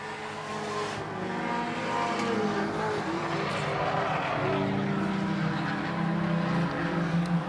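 Dirt track race cars roaring around the oval on the final lap, a continuous, fairly distant engine drone with rising and falling passes, under a commentator's voice.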